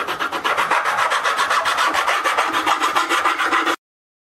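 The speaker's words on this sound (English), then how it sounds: "I don't feel any high spots as I'm filing it." A fret file rasps along a guitar fretboard during setup work, a steady run of close, rhythmic back-and-forth strokes with no talk, stopping abruptly near the end.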